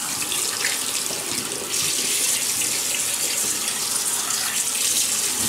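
Water runs steadily from a tap into a sink, a loud, close, continuous splashing hiss as the face is wetted before a shave, with a brief dip near the start and no talk.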